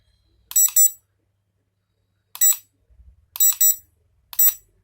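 A drone's radio control transmitter gives short, high electronic beeps while changing its speed level, first a double beep, then single and double chirps, clear and close over near silence, with faint handling noise between.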